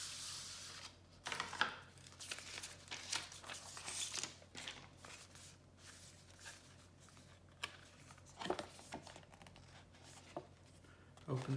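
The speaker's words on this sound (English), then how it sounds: "pull a little tab off over here" Apple Watch Series 5 band packaging being opened, with a small tab pulled off: quiet, close tearing and crinkling of paper and plastic that comes in scattered bursts, with soft handling noises between them.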